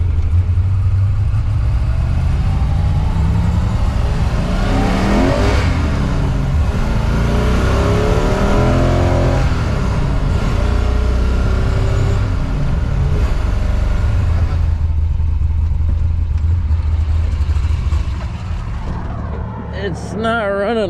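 A 1966 Corvette with a 427 big block engine runs roughly with a suspected loose plug wire, a loud continuous uneven rumble with rising and falling revs, while people talk over it.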